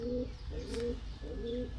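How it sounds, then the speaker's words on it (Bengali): Pet pigeons coo close by in a series of soft, low, rounded calls with short pauses between them, alone and clear on a cool day. "আমি আবার আমার শখের কবুতরগুলোর কাছে ফিরে আসলাম"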